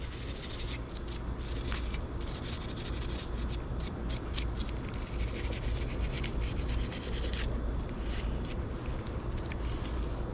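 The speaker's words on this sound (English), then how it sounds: "Go ahead and take our wire brush to it, see what we can do with that" A wire brush scrubs rust and black tarnish off a metal tool in continuous, quiet, close-up scratchy strokes with no talking.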